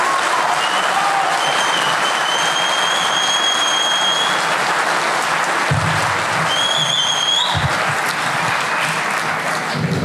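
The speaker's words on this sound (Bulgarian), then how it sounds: "Аплодисменти за Анди" Steady, dense applause from a large studio audience on a Bulgarian TV talk show, filling the whole stretch at high level with a few brief low thumps near the end.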